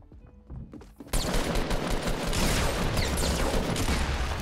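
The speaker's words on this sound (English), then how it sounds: "Please stop shooting at me." Rapid bursts of automatic gunfire in a Fortnite Battle Royale match erupt after a brief quieter lead-in, then continue loud and dense for several seconds.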